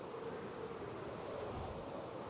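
A steady wash of ocean surf and wind rolls on without a break, a soft, even rumble from a lukewarm ocean in Minecraft, with no voices over it.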